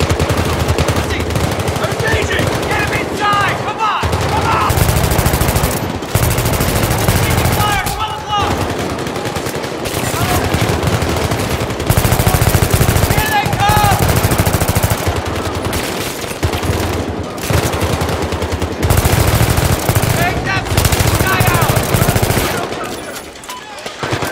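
Intense gunfire in a Battlefield 3 combat trailer: continuous automatic bursts and sharp shots, loud and close, mixed with explosions and shouted voices throughout.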